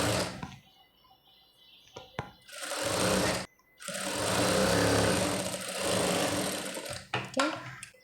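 A sewing machine stitches chudidhar pant pieces together in loud, fast whirring bursts with brief pauses between runs.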